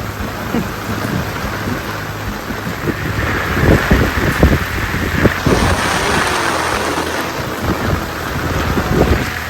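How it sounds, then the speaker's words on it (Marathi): Heavy monsoon rain pours steadily throughout at a shrimp farm in New Mumbai, with rumbles and cracks of thunder rolling in and out, loud and close. "डेंजरस पाऊस आलाय"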